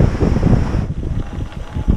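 Wind buffets a microphone outdoors on the Véloscénie cycling route in Lower Normandy, a continuous low rumbling roar that eases slightly partway through, with no voices.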